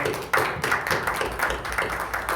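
People at a church central committee meeting clap for the secretary, treasurer and general officers. Their clapping comes in uneven bursts, fairly close and loud, with no speech over it.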